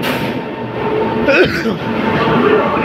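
The Amarnath Express rumbles in, hauled by a WAP-7 locomotive, with a steady heavy rail drone and a brief squeal, while people talk and laugh nearby.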